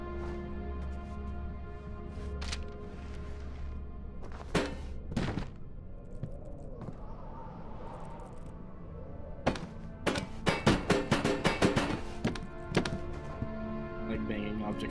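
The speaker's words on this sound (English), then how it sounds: "Like banging objects against each other." Objects in Amnesia: The Dark Descent knock and bang together in a cluster of sharp, loud thuds and clunks, with a quick burst of repeated hits near the end over a low steady drone.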